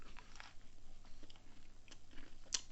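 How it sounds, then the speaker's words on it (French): Close, quiet crunching bites and chewing of crunchy Christmas shortbread biscuits, a string of soft irregular crunches with one sharper crack near the end. "je vais m'empresser tout de suite de goûter ces petits biscuits"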